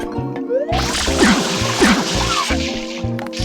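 Water splash effect in the Super Mario Eclipse game, heard twice as odd warbling squishy bursts over looping game music with a steady rhythmic bass pattern, fairly loud and upfront.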